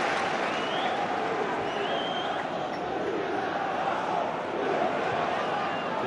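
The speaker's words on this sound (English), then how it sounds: "that's why there's such applause" Dense applause and crowd noise fill a football stadium at a Hearts v Rangers match, a continuous loud roar of clapping with faint commentary beneath.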